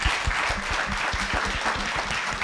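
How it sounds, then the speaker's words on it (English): Audience applause after a panel discussion at a live event, steady dense clapping throughout, with a few faint voices mixed in underneath. "please, a round of applause."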